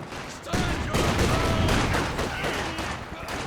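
Loud, continuous battle noise from the real-time strategy game Company of Heroes 2, with overlapping machine gun fire and grenade blasts forming a dense, rumbling barrage.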